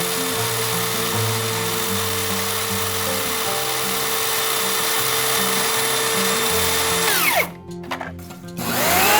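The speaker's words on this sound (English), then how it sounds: "I use a circular saw and groove cutter to cut a groove while holding a ruler firmly in place." A circular saw with a groove cutter cuts a groove in ash wood. It gives a steady, loud motor whine with a rich harmonic drone that stops abruptly near the end, followed by a few brief clattering sounds.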